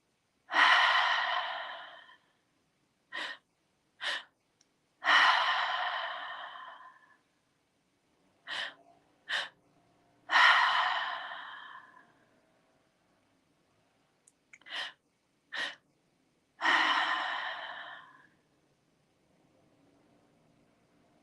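A group breathing exercise with deep breaths: long, loud inhales and exhales alternate with short sharp sniffs, repeating in slow cycles with silent pauses, close to the microphone and with no talking.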